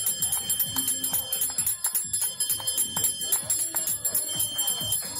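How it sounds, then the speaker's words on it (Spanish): A last-lap bell at a 5 km running race rings in rapid repeated strokes, loud and metallic, clanging steadily throughout while a voice talks faintly in the background. "Esa campana de última vuelta para esos 5 atletas."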